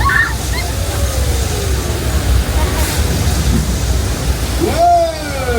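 Rushing water from the flood effect on the Universal Studios studio tour tram ride, a loud continuous broadband wash of pouring, splashing water that fills the whole clip, with faint crowd voices and whoops mixed in.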